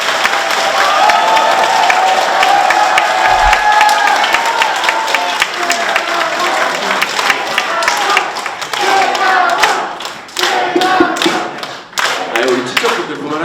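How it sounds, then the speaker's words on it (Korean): At a party members' lecture event, a large audience claps and cheers for a guest speaker, a loud, sustained burst of applause that thins out toward the end, with voices mixed in. "힘찬 박수 부탁드리겠습니다."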